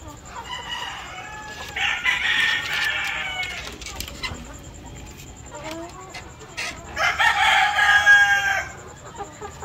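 Chickens in a breeding pen cluck and crow in two loud bursts, with quieter clucking and rustling between them and a steady faint background hum.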